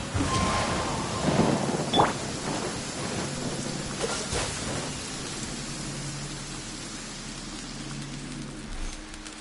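Rain falls steadily in the video game Genshin Impact while thunder rumbles. A loud crack comes early and a lower roll follows, all over a constant wash of rainfall.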